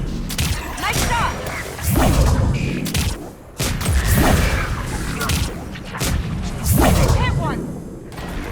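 Heavy gunfire and explosive thuds in the sci-fi shooter Mass Effect 3, rolling bursts of rapid shots and booming impacts in several loud waves, with voices shouting over the battle.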